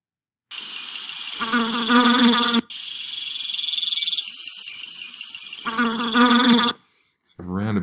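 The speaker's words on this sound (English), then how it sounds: "those crickets and the fly." Sound-effect layer of chirping crickets with a buzzing fly, a bright, steady insect drone with pulsing trills at start and end, close and loud, cutting off abruptly near the close.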